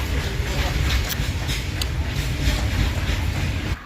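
A train at Naila railway station in Janjgir rumbles past close by, a steady loud low roar with faint rhythmic wheel clatter running the whole time and a few people talking under it.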